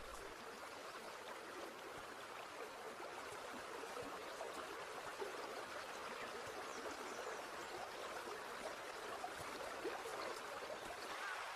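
A flooded river in Hokkaido rushes along in a steady, broadband wash of flowing water, constant and moderately distant, with no voices.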